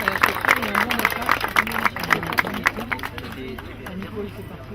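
Spectators applaud a runner at a race prize-giving at Montsouris, with quick, uneven clapping close by that thins out slightly over the seconds, mixed with chatter and someone talking.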